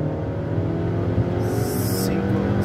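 A 2011 Chevrolet Captiva Sport with a 2.4-litre engine and six-speed automatic transmission runs at high revs, around 5,000 to nearly 7,000 rpm at about 100 km/h, its steady engine drone heard from inside the cabin beneath faint tyre and wind noise.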